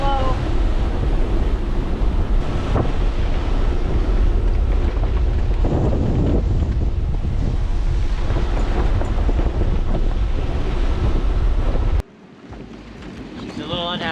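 Strong, steady wind buffets a sailboat approaching Annapolis into a headwind after its motor failed, with waves washing around the hull; the roar stays loud and continuous, then drops sharply near the end before building again.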